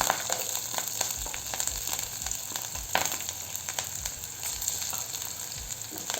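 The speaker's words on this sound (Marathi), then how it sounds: "मिरची घालायची चिरलेली." Chopped green chillies frying in hot oil with cumin on low heat give a steady close crackling sizzle, with scattered pops and a few stirring scrapes throughout, for sabudana khichdi.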